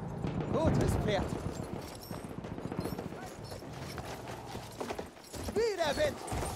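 Rhythmic clip-clop of cavalry horse hooves with a whinny in the game Giants: Shadow of Cavalry, mixed with game-like effects and a voice speaking over the galloping.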